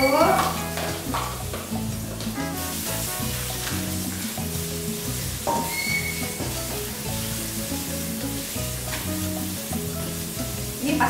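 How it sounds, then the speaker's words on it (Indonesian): Paprika and bird's eye chili sautéing in a pan for spaghetti pesto, a close, steady sizzle with constant crackle and scraping stirring, and music playing underneath throughout. "Kita tumis dulu."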